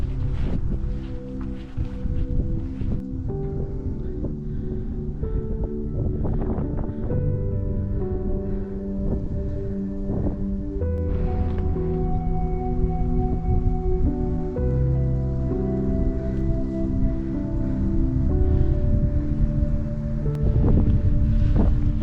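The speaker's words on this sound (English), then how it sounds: "The wind has picked up again" Strong wind blows steadily near the summit of Coe Crags on a hilltop walk in Thrunton Woods, Northumberland, rumbling and buffeting the microphone with loud low gusts the whole way through, with no voices.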